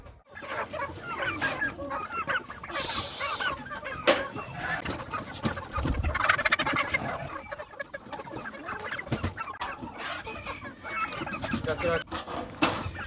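Chickens on a farm, including a pet hen, clucking and squawking close by in a busy stretch, with one sharp higher squawk and a voice speaking intermittently over the flock.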